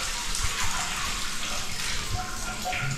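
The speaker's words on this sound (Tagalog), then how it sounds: "Malakas na po yung shower." A strong shower runs during a bathroom leak test, water gushing and splashing in a continuous, dense spray close by, steady for a few seconds with no voices.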